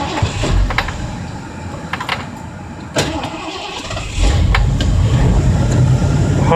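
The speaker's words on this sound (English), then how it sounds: "All right, so here we go. We're going to start it up." A Ford 351 V8 in an old van with a C6 transmission cranks over with a few uneven bursts, then catches and settles into a loud, steady, rumbling run close by.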